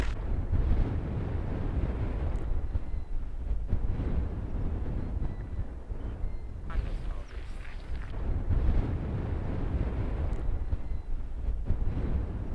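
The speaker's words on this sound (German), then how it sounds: "Ein rauer Wind weht hier durch die Gegend." Rough wind gusting steadily across open Norwegian tundra in light drizzle, a continuous low rumbling roar buffeting the microphone for the whole stretch with no voices.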